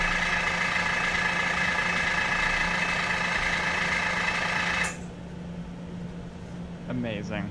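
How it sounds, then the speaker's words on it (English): An airbrush air compressor hums loudly and evenly for about five seconds, then cuts off abruptly, leaving quiet room tone and a brief voice near the end. "there's the famous... famous compressor"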